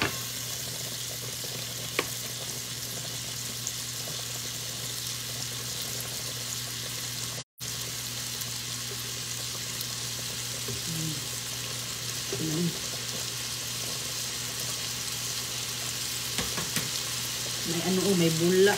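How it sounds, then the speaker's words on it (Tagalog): Steady bubbling and hissing of a pot of fish boiling on a stove, close and continuous, with faint clinks of a utensil near the end. "Ayan, kumukulo ng pating isda."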